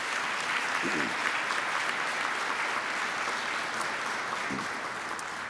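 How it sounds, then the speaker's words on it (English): An audience at a Rotary meeting gives a steady round of applause, even and fairly soft, with a brief voice or two heard faintly under the clapping. "Let's give them a big round of applause."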